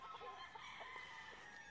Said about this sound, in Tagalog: Nakita nyo naman na napakagandang inahin nito.